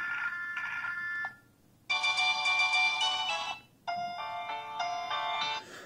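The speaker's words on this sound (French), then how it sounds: "mettre une sonnerie pour les appels et une sonnerie pour les messages" Ringtone melodies play on an Emporia Active Glam 4G phone, several short electronic tone patterns in bursts separated by brief pauses, clear and close with no talking.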